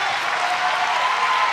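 Arena crowd at a women's 69 kg weightlifting world championship session applauding and cheering a lifter, a dense continuous roar of clapping and voices, loud and steady throughout.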